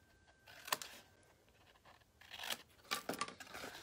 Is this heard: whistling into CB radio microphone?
no